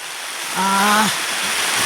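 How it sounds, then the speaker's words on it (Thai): Rain falls in a steady, even hiss, and a short voice sounds briefly over it partway through. "พี่น้องนะฝนตกพี่น้อง"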